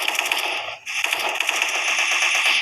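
A gatling gun fires in the video game Special Force 2 with a rapid, continuous metallic rattle. The burst stops briefly near the start, then resumes and runs steadily to the end, loud and close, with no voices.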